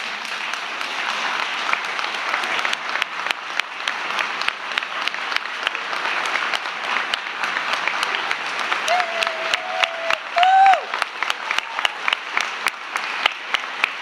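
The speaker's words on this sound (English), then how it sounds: "please stand so that way we can applaud your service" Audience applause honoring former principals at a school rededication ceremony, sustained crowd clapping with distinct individual claps standing out, and a brief voice heard partway through.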